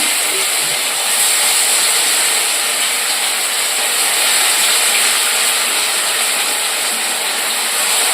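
Four fish pieces drop into a deep pool of well-heated oil, sending up a loud, dense, unbroken frying hiss that holds steady throughout, close and without talk.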